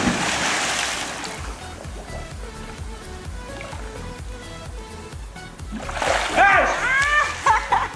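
A person dives into water during a diving challenge, with a loud splash at the start followed by softer water movement. Voices talk and shout afterward.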